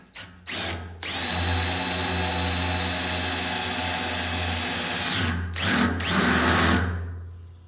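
A power drill with a 7/16 bit whirs steadily and loudly at close range for several seconds, drilling into a Honda XL70 motorcycle, starting after a couple of short bursts and dipping briefly near the end.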